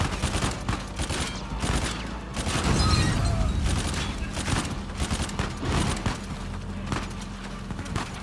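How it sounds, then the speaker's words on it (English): Gunfire rattles almost without a break in Uncharted 4 while the character is dragged along the ground, loud rapid shots layered over scraping, rumbling motion. "Might as well shoot all these guys while I'm being dragged"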